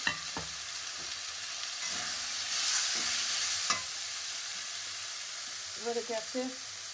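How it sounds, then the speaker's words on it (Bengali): Marinated mushrooms hit a pan of cooked-down spice masala and fry with a steady, soft sizzle. A few stirring clanks and scrapes sound near the start, and the frying swells briefly partway through. "এবার এই যে ম্যারিনেট করে রেখেছিলাম মাশরুমটা দিয়ে দিলাম"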